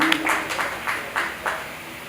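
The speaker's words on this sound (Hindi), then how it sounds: "एक बार जोरदार तालियां उनके लिए" A short run of clapping from an audience at a community gathering comes as a series of sharp, fairly close bursts, over quiet background noise.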